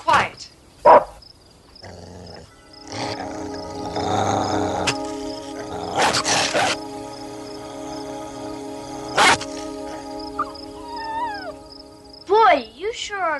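Dogs barking and growling indoors at a house, with sharp barks early and sustained growling mixed under people talking, plus a few whining yelps near the end.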